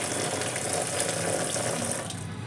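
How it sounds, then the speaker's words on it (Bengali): Chopped vegetables and brinjal are washed under a running tap in a kitchen sink. The water makes a steady, full splashing rush that stays close and constant throughout, with no voices. "তার জন্য প্রথমেই এগুলো জল জল দিয়ে ভালো করে ধুয়ে নিচ্ছি।"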